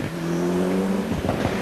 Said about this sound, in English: The Escorts don't appear to be going as quickly as the other cars we've seen.